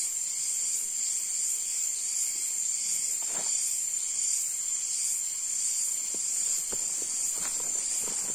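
A steady, high-pitched chorus of crickets drones without pause in a forest in the late afternoon, with a few soft footsteps and rustles breaking through now and then.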